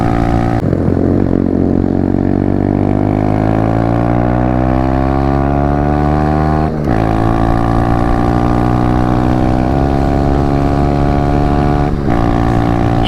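Honda Grom and Kawasaki Z125 mini motorcycles held at full throttle, a loud steady engine drone whose pitch climbs, drops briefly at a gear change, then rises again, continuous with no speech.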